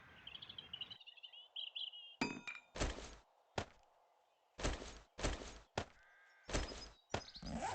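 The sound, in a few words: stone sledgehammer attack in 7 Days To Die video game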